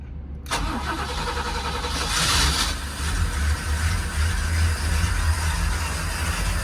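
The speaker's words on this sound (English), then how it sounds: "Get her in the water and get the engine started" Boat engine starting at a lake with the engine hatch open: an abrupt crank catches into a steady, close, loud idle with a low rumble that swells briefly as it revs, running alone without speech.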